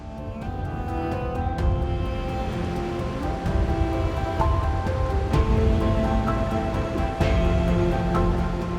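A mid-level stream runs over stones at Mulugu in Telangana, giving a steady, loud rush of flowing water with no talking throughout.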